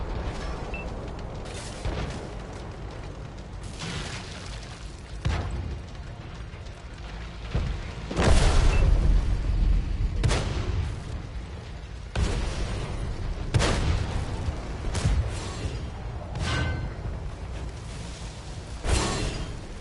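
Tank ammo rack detonations in the World of Tanks video game: a series of heavy booming blasts spaced every few seconds, loud and close over a rumbling, mechanical battle background.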